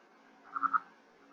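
A frog calls from underground, a faint, muffled burst of three quick croaking pulses rising briefly out of a quiet background.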